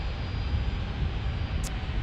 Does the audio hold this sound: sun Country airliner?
yes